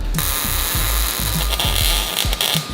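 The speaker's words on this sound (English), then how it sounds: "I'm gonna go ahead and weld around it too." Welding on a panel of a 1969 Camaro, a loud continuous buzzing crackle with regular pulsing bursts, heard close and alone.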